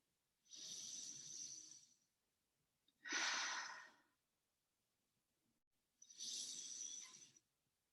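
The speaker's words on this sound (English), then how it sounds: "let's just take 3 deep breaths into the body." Three slow, deep breaths taken one after another during a breathwork exercise, each a long airy rush lasting over a second, close and clear with short quiet pauses between them.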